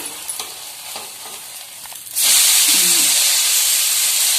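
A tomato dosa fries on a hot pan with oil, first a quieter crackle, then a loud steady sizzle and hiss that swells abruptly about halfway through and carries on alone.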